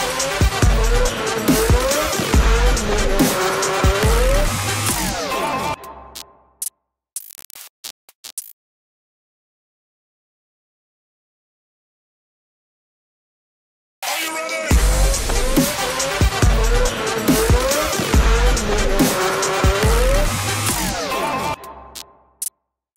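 Go-kart racing at Kartzone during a celebrity race, with engines buzzing loud and close, tires squealing, then a sudden drop to silence before the dense motor roar returns.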